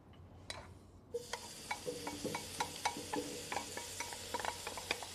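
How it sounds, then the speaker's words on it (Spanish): Chiles smoking over mesquite crackle and sizzle quietly, with irregular sharp pops and ticks over a low, steady hiss. "vamos a ahumar tantito estos chilitos para que agarren un poquito de sabor ahumado a mezquite"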